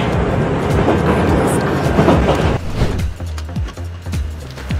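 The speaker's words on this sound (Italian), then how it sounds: "il fastidiosissimo rumore dei treni" Passenger train rumble and rolling noise, loud and continuous, with rhythmic clickety-clack of wheels over rail joints becoming distinct in the second half.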